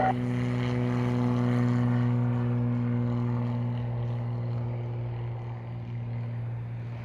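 Air Canada airliner on its takeoff run from runway 07 in Jamaica, a loud steady engine drone with strong low tonal hum, holding near and constant, slowly easing off.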